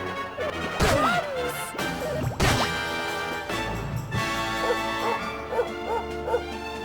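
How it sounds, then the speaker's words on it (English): Dog barking during a turn-based battle in the video game Dragon Quest XI, heard as a short bark amid game music and battle hit sounds, with no talking. "Sandy barks at Slimy"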